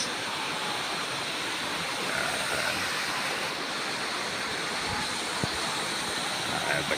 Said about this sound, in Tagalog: mga tubig na dumadaloy